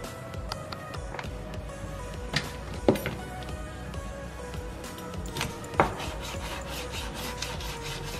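Snake gourd being cut on a board while preparing prawns with snake gourd, giving soft rubbing, scraping knife strokes with a few sharper taps, steady and close with no talk.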